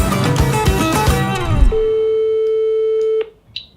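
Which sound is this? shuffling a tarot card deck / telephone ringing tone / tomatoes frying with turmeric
telephone ringing tone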